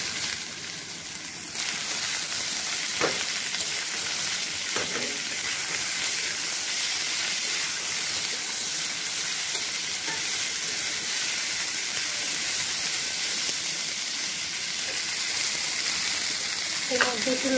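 Taro stolons fry in a pan, making a steady hiss and sizzle that runs at an even level almost the whole way through, with a few faint clinks and stirring noises.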